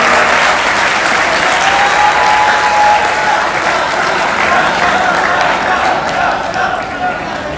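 Loud, sustained applause from the audience at a mushaira poetry recital at King Edward Medical College, a thick continuous wash of clapping that slowly tapers toward the end.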